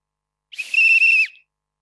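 A single sharp, shrill whistle blast of the kind used in a village kabaddi match, loud and close, held for just under a second.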